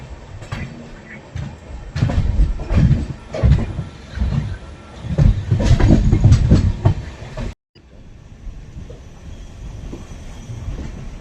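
Clickety-clack rhythm of the 15675 Guwahati Intercity running from NJP toward Guwahati. Loud wheel beats and car rattles fill the cabin, then the sound drops out briefly and returns quieter and steadier.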